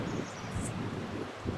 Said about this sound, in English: It's windy, it's chilly, it's getting a little late.